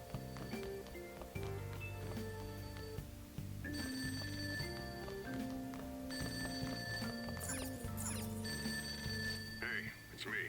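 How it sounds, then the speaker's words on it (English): In Persona 5 Royal, a phone rings in repeated bright electronic trills over layered game music, moderately loud and continuing for about ten seconds. "Ring sound isn't coming from my cell phone."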